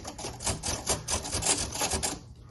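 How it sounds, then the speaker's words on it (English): Servo-driven retractable landing gear on an Agusta A109 Coast Guard scale RC helicopter, a close, continuous rasping mechanical whir with rhythmic pulsing, fading at the end. "Oh yeah, got the retracts going."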